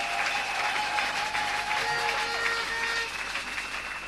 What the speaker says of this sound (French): Acclame bien fort pour Jésus.